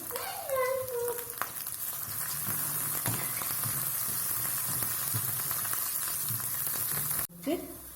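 Crushed spices frying in hot oil in a pan for a Kerala fish curry and tapioca meal, a steady close sizzle running throughout with a few faint clinks, briefly cut off near the end.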